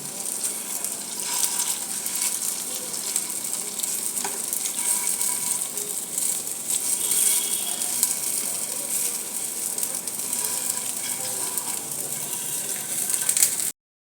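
Bread pieces fry lightly in hot oil for a sweet bread rasmalai, giving a steady, close, bright sizzle that holds for about fourteen seconds before cutting off abruptly.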